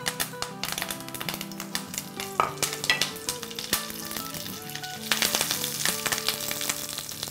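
Oil sizzles and crackles steadily as curry leaves fry, with light clicks of stirring over the continuous hiss.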